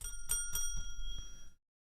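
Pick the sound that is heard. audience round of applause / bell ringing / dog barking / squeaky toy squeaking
bell ringing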